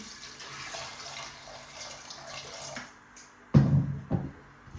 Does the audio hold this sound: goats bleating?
no